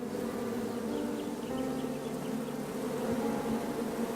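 Bees in the King's Quest video game hum in a soft, continuous buzz, faint and steady throughout with no other sounds.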